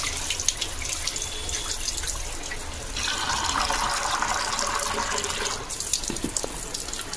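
Utensils rinsed under a running tap at an outdoor washing spot, a steady splashing stream with clinks of metal, the flow growing heavier and fuller midway before settling back.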